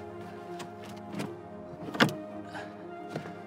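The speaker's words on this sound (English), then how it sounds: "Let's check and see if the sunroof hits." Sunroof on a 1998 Toyota Tacoma extended cab sliding open, a steady electric motor whir with a few small clicks and one sharper knock partway through.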